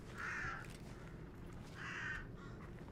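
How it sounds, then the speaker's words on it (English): Crows cawing twice in a row, each call a harsh, drawn-out caw of about half a second with a pause between, heard over a steady low background rumble. "I can't hear it through the fucking crows"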